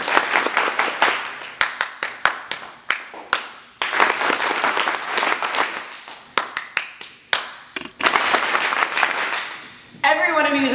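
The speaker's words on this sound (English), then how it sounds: "Poet, you just clapped a haiku." An audience at a spoken word poetry coffeehouse night claps a haiku rhythm in short bursts, groups of sharp claps separated by brief pauses, ending with a louder sustained round of applause and cheering.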